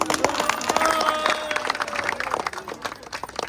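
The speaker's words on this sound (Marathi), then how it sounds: "टाळ्या वाजवा सगळ्यांनी" A crowd claps in a busy, uneven patter at a traditional wedding ceremony while a melodic tone carries on underneath.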